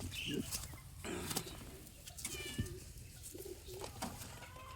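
Low, soft racing pigeon coos repeat in short bursts over a steady background hum, with some faint chirps and flutter nearby.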